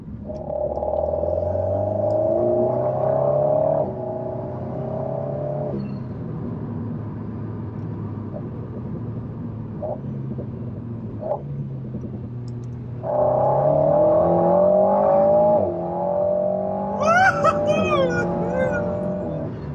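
Alpine A110 sports car engine burbling on the road after a downshift, a low throaty harmonic drone that rises and falls in pitch, sitting close and steady with brief louder surges.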